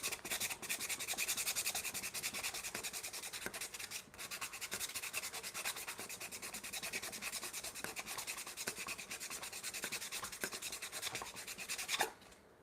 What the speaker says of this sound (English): I love the way maple sands up. It's like the best wood to sand.